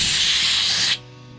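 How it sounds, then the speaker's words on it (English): A spray gun blasts a loud, steady hiss of water over the engine fins of a Honda Fury motorcycle, then cuts off abruptly near the end, leaving a quiet hum. "It's great having a gun like this so you can spray in between all the fins itself"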